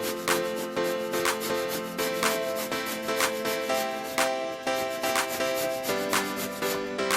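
Organic carrots rubbed across the middle-sized holes of a hand grater, a steady repeating rasp of strokes roughly every half second, close and moderately loud with no talking.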